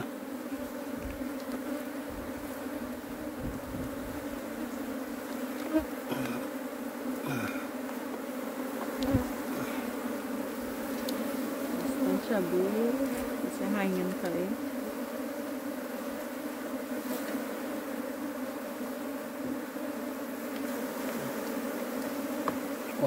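A honeybee swarm being captured hums steadily for over twenty seconds, a dense continuous buzz close by with occasional handling knocks and brief murmurs of speech underneath.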